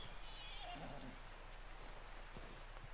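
A horse whinnies faintly in Red Dead Redemption 2 over a constant low hum and background ambience, its high neigh rising briefly near the start.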